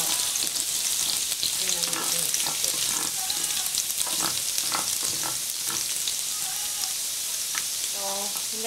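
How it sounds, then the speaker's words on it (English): Onions fry in a pan for Nigerian meat pie, giving a steady, close hiss and crackle of sizzling oil with occasional stirring scrapes and a few faint background sounds. "I really don't like fresh onions, so I like to cook it down a lot."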